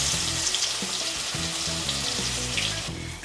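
Steady, close sizzling of crushed ginger and garlic frying in hot mustard oil, with light clinks and scraping from stirring over the continuous crackle.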